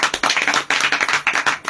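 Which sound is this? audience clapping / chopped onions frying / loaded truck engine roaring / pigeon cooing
audience clapping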